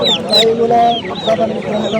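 Chickens at a busy poultry market in Puthia cluck and squawk repeatedly close by, with sharp high calls over a murmur of people talking in the background.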